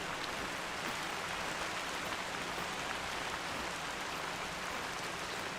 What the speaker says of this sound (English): It's amazing, the rain is so loud.